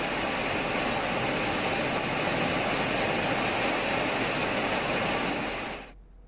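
Rafale fighter jets landing at Ambala airbase give a steady, loud broadband roar that holds for several seconds, then cuts off abruptly near the end.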